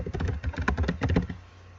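Fast keystrokes on a computer keyboard as an email address is typed, a close, quick rhythmic run of clicks that stops near the end.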